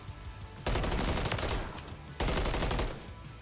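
Two loud bursts of rapid gunfire in a Search and Destroy match in a shooter video game, each lasting about a second and a half, separated by a brief quieter gap.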